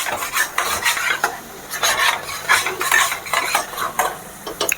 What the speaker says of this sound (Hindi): छोला डाल के इसको अच्छे तरह से हम 5 मिनट पकाएंगे छोला के साथ